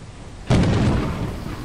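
A thunderstorm rumbles in the Lethal Company video game, a sudden loud crack of thunder bursting in and then rolling on as a heavy, sustained low rumble.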